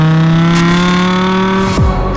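BMW M5 E60 with its S85 V10 engine and a muffler delete revving hard, a loud, continuous high-pitched engine howl that holds steady and then drops as the revs fall.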